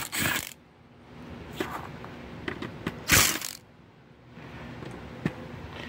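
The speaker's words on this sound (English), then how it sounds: "So I've got to take out some screws." Small screws being backed out of an Enterasys 5G102-06-G gigabit Ethernet switch circuit board during a teardown, giving close, intermittent creaks, clicks and ratcheting scrapes with a louder rasp midway and quiet gaps between.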